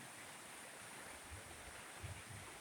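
Bear River rushes steadily through a straightened, channelized riverbed in January at high flow, a continuous broadband watery hiss with light wind buffeting the microphone.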